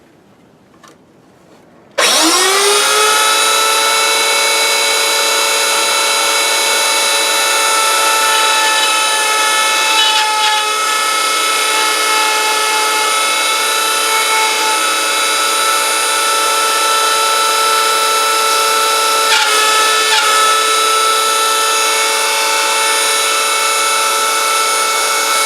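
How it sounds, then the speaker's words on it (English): A wood router cutting a rounded mortise into a stile, its high steady whine starting abruptly after a moment of quiet and holding loud and constant, close by, for the rest of the stretch. "because the router leaves a rounded mortise."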